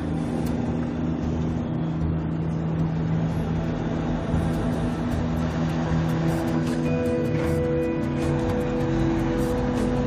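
A car pulls away and drives on along an Australian road, its engine a steady, loud drone that runs without a break throughout.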